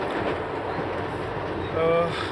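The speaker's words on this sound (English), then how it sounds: "This is the 7:30 commuter special from Folkestone to Cannon Street." A British Rail commuter train running from Folkestone to Cannon Street, a loud steady rumble and rattle of carriages filling the whole stretch, with a brief tonal squeal near the end and voices talking over it.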